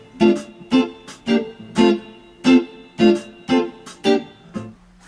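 Funk guitar picking the chords of a song, a steady run of about nine bright plucked strums in an even, choppy rhythm, close and clear with no talking.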